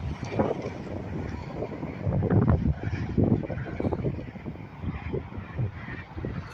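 Strong summer wind in the San Joaquin Valley, where a kite is being flown, buffets the microphone with a loud, uneven low roar and gusting rumble throughout.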